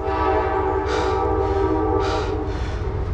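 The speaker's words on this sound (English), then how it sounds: "there you go, there's a noisy train." A train rolls through Ohiopyle, a loud, close rumble with sustained horn blasts held over the low rolling roar of the cars throughout.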